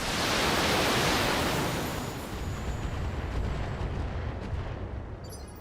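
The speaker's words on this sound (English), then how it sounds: "We'll start with the missiles and follow with the mortars." Missiles and mortars fire in indirect salvos in the Battletech video game, a loud dense roar of launches that swells at first and then settles into a sustained rumbling barrage.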